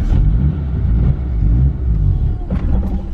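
A 2.3L Mitsubishi Evo pulls away with a loud, close, low engine rumble that lurches and sags, then cuts out as the car stalls.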